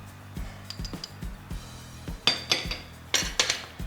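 Canned fish, potato and spices being mixed in a bowl, a series of close clinks and scrapes of utensil against the dish, growing louder toward the end, with no talking.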